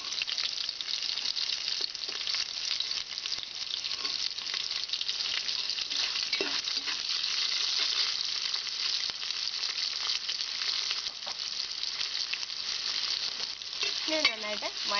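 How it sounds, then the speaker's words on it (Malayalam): Chopped onions fry in oil in a pressure cooker for chicken biryani, giving a steady, close sizzle that runs the whole time. Occasional scrapes of stirring come through. "ഇനി ഇതിലേക്ക് നമുക്ക് അരിഞ്ഞ് വെച്ചിരിക്കുന്ന സവാള ആഡ് ചെയ്യാം."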